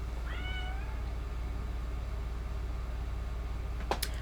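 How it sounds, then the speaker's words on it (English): A mother cat lets out a single drawn-out, wavering yowl early on over a low steady hum, followed near the end by a short sharp noise. "if you hear my cat yowling in the background"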